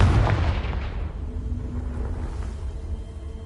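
A loud booming blast from the Confringo fire spell in the Hogwarts Legacy video game, striking hard at the start and then rolling off into a long fading rumble.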